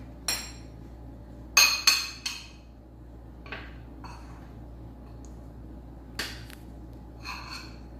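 Sparse clinks and taps of a utensil against a bowl while mixing ingredients for chocolate cornflake peanut butter balls, a few sharp strikes then quieter scattered knocks, close and otherwise quiet.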